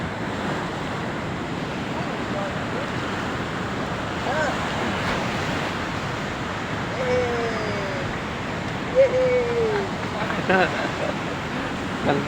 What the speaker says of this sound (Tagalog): ang lakas ng agos, ang lakas ng alon pala